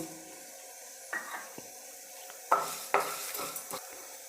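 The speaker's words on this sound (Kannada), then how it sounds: "ಇಷ್ಟು ಮಲೆ ಮಸಾಲೆನ ಚೆನ್ನಾಗಿ ಹುರ್ಕೊಳ್ತೀನಿ ಗರಿ ಗರಿಯಾಗಿ" Coriander seeds, pepper and whole spices dry roasting in a pan, stirred with a spatula that scrapes and rattles in several distinct strokes over a faint steady hiss, close and moderately loud.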